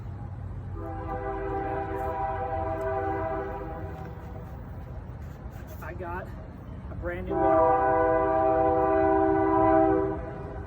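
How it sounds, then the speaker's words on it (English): A train rumbles past with long, loud horn blasts sounding twice, while someone talks over the steady rolling noise outdoors. "We got a train going in the background, so hopefully you guys can hear me over the train."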